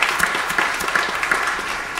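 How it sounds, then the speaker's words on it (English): Applause from a church congregation during Sunday worship, a steady dense wash of clapping hands that holds at an even level for the whole couple of seconds, with no talking over it. "Let's give them a round of applause"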